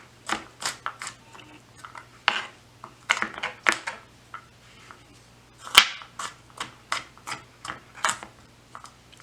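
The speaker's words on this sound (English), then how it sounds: "Just keep chopping away until they're nice small pieces." A kitchen knife chops garlic on a cutting board into small pieces for vegetable soup, giving a run of sharp, irregular taps and knocks, close and alone with no talking.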